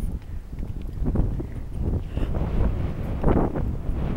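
Cold wind buffets a microphone as people walk outdoors, a continuous low rumbling roar that swells and dips, loud and close with no clear speech.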